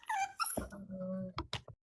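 A dog gives a series of high, thin whimpers and whines close by, one drawn-out cry in the middle, then a few short yips trailing off.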